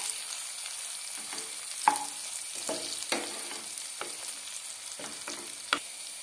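Masala idli pieces with chilli powder fry on low heat in a pan, giving a steady soft sizzle broken by occasional sharp clicks and taps from stirring.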